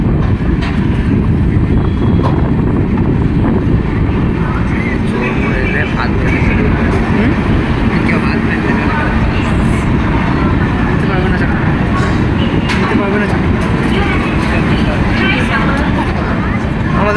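The 22305 SMVT Bengaluru express runs after leaving Bhubaneswar, heard from on board as a loud, unbroken low roar of wheels and wind, with a person talking over it throughout.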